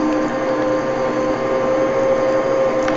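A meat grinder mixer grinding deer meat runs steadily, a loud continuous motor whine with a constant hum and no pauses.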